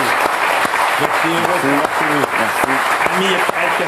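Sustained audience applause for Charlotte and Amir, close and loud, with a person talking over the clapping in the middle.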